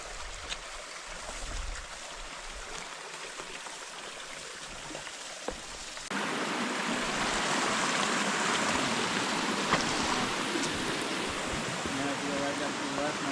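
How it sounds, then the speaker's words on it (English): A small mountain spring trickles off the side of a creek in the Yellowstone backcountry, its steady water wash getting louder and fuller partway through and running continuously nearby. "Beautiful little spring off the side of Cold Mountain Creek"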